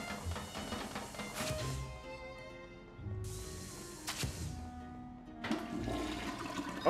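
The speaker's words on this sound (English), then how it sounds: "Oh, I didn't know we could flush toilets." Toilets flushing in Luigi's Mansion 3, three separate rushing gushes of water each starting abruptly and draining away, close and fairly loud, with no talking.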